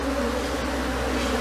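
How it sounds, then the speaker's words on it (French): A close, steady drone of a swarm of Africanized honey bees buzzing together in Paraty, Brazil, continuous and unbroken throughout. "ces abeilles, pour des africanisades, des abeilles brésiliennes africanisées"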